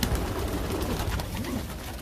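Young pigeons being weaned coo softly and continuously, low rolling calls repeating close by over a steady background murmur, with no talk.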